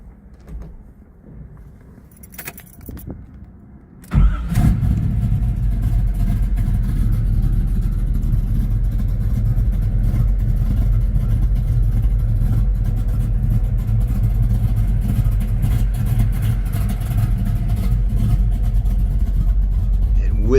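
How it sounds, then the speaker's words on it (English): A 1976 Camaro's modified 383 V8 fires up abruptly after a few faint clicks and settles into a loud, rumbling idle with light revs, close and sustained for the rest of the clip. "And with that sound, you know it's not stock any longer."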